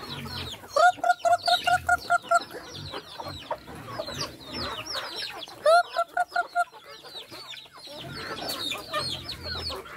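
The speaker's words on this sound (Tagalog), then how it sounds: "Madami na uling manok, oh." Several chickens cluck in quick, rhythmic bursts, two clear runs of sharp calls over a busy farmyard background with faint movement.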